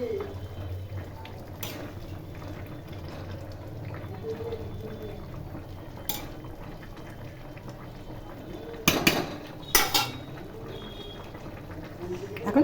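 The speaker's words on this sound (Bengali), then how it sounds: "ঝোল ফুটে গেছে, এখন এর মধ্যে ধনেপাতা দিয়ে দিলাম।" Rui fish curry broth with winter vegetables simmers at a steady low bubble in a pot on a gas flame, with a few brief louder clatters near the end.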